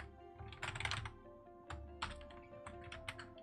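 Quick bursts of typing on a computer keyboard, irregular clusters of crisp key clicks with short pauses between, close up and with no talking.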